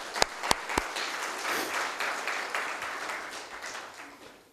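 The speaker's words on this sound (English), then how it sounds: "A big round of applause, please." Audience applause at a business forum session: a few sharp individual claps open, then a dense, steady wash of clapping from the crowd that tapers off gradually toward the end.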